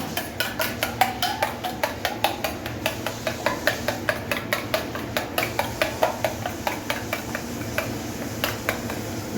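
A single egg is beaten briskly in a bowl, giving a fast, even run of sharp clicking strokes against the vessel, close up and steady in rhythm.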